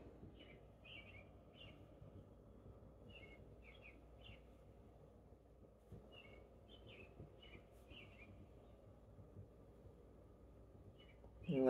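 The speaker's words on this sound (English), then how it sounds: "I don't know if you can hear the birds sitting out on the telephone wire out there." Birds perched on a telephone wire outdoors give faint, scattered chirps in short clusters against a low, steady background hum, distant and quiet.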